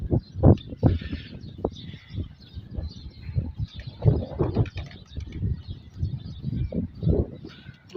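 Young pigeons at a Pakistani pigeon-keeping club give soft, low, throaty cooing calls, a close and continuous run of muffled murmurs and brief warbles with no talk.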